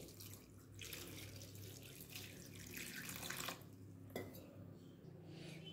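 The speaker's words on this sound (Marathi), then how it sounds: "भाजून झाल्यानंतर ही आता धुवून घ्यायची आहे।" Running water splashing and sloshing in a bowl as roasted dried shrimp are washed, with light clinks of a utensil against a dish; steady and close, no talking.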